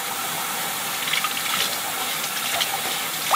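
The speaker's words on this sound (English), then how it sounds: "We're just going to run water on them for about 5 to 10 minutes and let all the feathers get off" Water runs steadily from a tap over freshly plucked ducks, a constant broadband splashing rush with small irregular splatters as it hits the birds.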